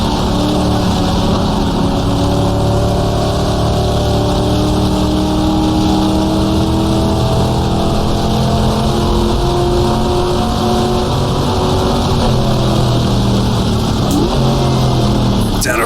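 Car engine in the GTR2 racing game during a 1966 Monza sportscar race, a steady droning engine note that holds and shifts pitch throughout, with a voice speaking over it.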